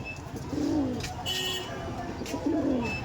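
Kaldom pigeons coo close by, with two soft, rolling calls about two seconds apart over a low background murmur and a few faint chirps.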